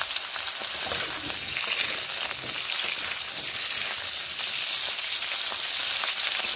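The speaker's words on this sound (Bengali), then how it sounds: "কড়াই বসিয়ে দিয়ে একটু তেল গরম করে নিয়েছি। এবার আমি আলুগুলো ভেজে নেব।" Potatoes frying in hot oil in a wok, a steady bright crackling sizzle with no talking.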